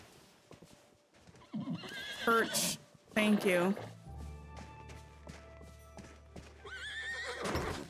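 A horse in the video game Disney Dreamlight Valley whinnies in short bright bursts, with a soft clip-clop of hooves and game effects around it, while a player talks quietly in between.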